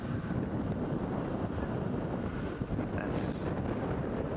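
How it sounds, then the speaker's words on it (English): Blustery outdoor wind buffets the microphone in a steady, loud, broadband roar that stays dense throughout, with no clear voices above it. "It's blustery out here."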